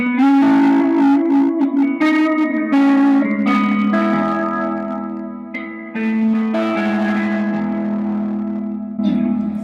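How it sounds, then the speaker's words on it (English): A sustained electric guitar rings out through a wide, washy spring reverb, chords blooming and trailing into a spacious echoing tail, loud and continuous throughout. "the huge spring reverb, which just creates a lot of space."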